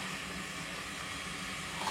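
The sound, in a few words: eggs cooking on a very hot pan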